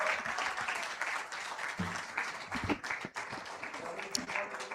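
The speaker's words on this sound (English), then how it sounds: "So give Sagar a big round of applause." Crowd at a corporate learning and development awards festival gives a round of applause for an award winner, steady but fairly distant clapping with a few scattered voices mixed in.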